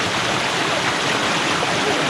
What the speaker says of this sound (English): You can already hear the water.